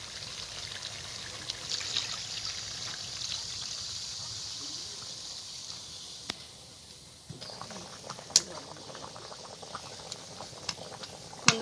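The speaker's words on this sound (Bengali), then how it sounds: "বন্ধুরা জলটা ফুটে উঠেছে" Water boiling in a pot with chicken, a faint steady bubbling hiss with occasional small pops and clicks, quiet and somewhat distant throughout.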